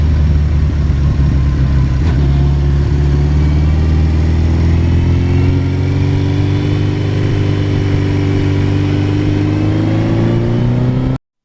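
A 1982 Suzuki GS1100E motorcycle engine drones loudly and steadily while riding, its pitch rising as it accelerates toward the end.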